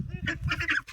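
Farm ducks honking and quacking in a loose chorus of several close, overlapping calls, with a low rumble underneath and no talking.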